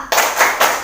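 A classroom group claps through the PPK clap routine, with three bursts of loud, close hand clapping following one another in a steady rhythm, with no voices over them.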